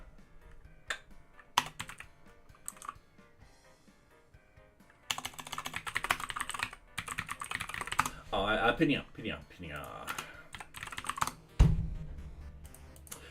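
Computer keyboard typing in bursts of quick clicks during web development work on a project management system, with someone talking between and over the keystrokes.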